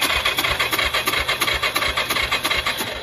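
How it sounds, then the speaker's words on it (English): A Yamaha 350 Moto 4 ATV engine cranking over with low compression, a rapid, even chugging pulse of about six beats per second with a breathy, blowing rasp on each stroke, loud and close. "the bike sounds like it's low of compression, and you can hear it blowing"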